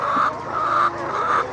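Hens in a layer poultry farm cluck and call in drawn-out, fairly loud tones, rising and falling in a few overlapping bursts.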